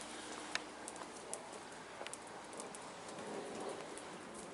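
Rain falls steadily outdoors, a soft continuous hiss with scattered faint drips and taps, fairly quiet and even throughout.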